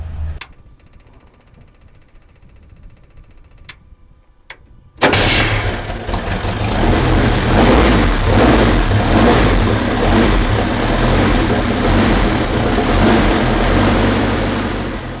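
A 1937 Miller-Gulf vintage race car engine catches at once after a few faint clicks of switches and fuel, then settles into a loud, close, rough and steady running roar with throttle blips, with no voices over it.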